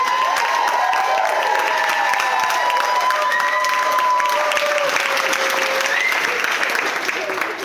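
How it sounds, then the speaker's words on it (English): Wedding guests applaud the bride at a reception, a steady roar of clapping from a crowd filling the room, with scattered voices and calls mixed in throughout. "A round of applause just for the beautiful bride today."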